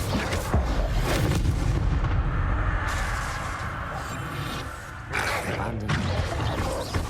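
Incendio fire spell cast in the Hogwarts Legacy video game: a loud, continuous roaring blast of flame fills the whole stretch, with a brief dip and a renewed burst near the end.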